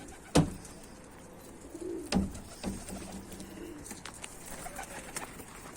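A pigeon coos softly a few times, low and gentle, alongside a couple of sharp knocks and faint rustling nearby.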